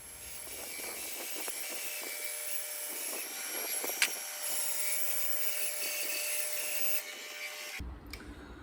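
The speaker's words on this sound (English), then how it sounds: "I'll cut that on the jigsaw to the line" Jigsaw cutting plywood along a marked line for a homemade 8 ft boat, a continuous buzzing, rasping saw drone that runs steadily for several seconds before cutting off near the end, with no talking.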